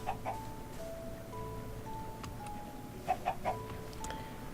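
A chicken in the video game Minecraft gives short clucks, a quick pair near the start and a cluster of three later, heard over soft, sustained background music tones without speech.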